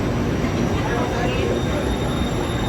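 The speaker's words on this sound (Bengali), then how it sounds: "এটা একটা ট্রেন ওইদিকে চলে যাচ্ছে" A train passes on a nearby track at a Bangkok rail crossing, a steady loud rumble of wheels and motion filling the scene, with someone talking over it.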